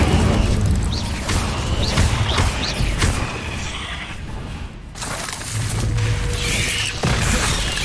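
A Confringo blasting spell fires in Hogwarts Legacy, bursting into a loud rumbling explosion with whooshes and crashing debris that fades and then swells again.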